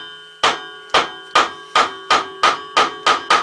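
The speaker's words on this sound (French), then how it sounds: "Un petit coup de maillet, je pense, suffira." Mallet taps on a part of a Record Power DML250 turntable during a belt change: eight evenly spaced, sharp knocks with a slight metallic ring, close and clear with no talking.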